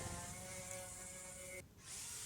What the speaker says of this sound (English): some of it was still rough, I had to switch to my large sander